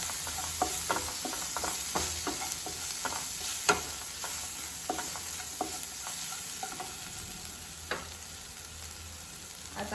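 Pav bhaji masala mixture being stirred in a frying pan, a soft, continuous sizzle with scattered sharp scrapes and taps of the spoon against the pan at an irregular rhythm, close up and without talk.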